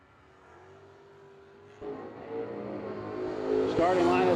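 Drag cars launching at a no-delay drag race, one a 2001 Ford Mustang, engines rising from an idle whine to a sudden loud roaring surge that keeps building, with an announcer talking over it.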